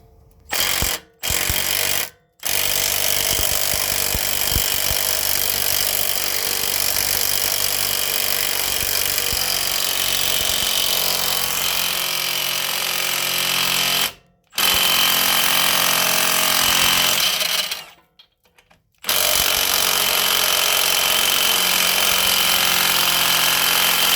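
An impact-style power tool works a rusted sway bar link nut on a Honda Pilot. Loud, close bursts of rapid hammering rattle run for long stretches, broken by a few brief stops.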